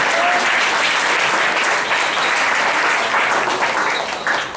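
A church congregation at a pastor's service claps together, a loud, dense burst of applause that holds steady and then tapers off near the end.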